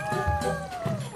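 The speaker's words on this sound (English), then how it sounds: "Are your cats making out?" Two cats meowing and yowling at each other in short, overlapping cries, close and fairly loud over a brief moment.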